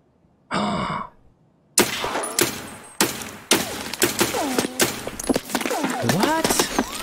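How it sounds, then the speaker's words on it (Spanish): Scav gunfire in Escape From Tarkov on the Reserve map, a string of sharp shots at irregular intervals. One shot is followed by a long crack and the rest run into a louder stretch, with excited voices talking over the shooting. "De acá arriba le está disparando el scab."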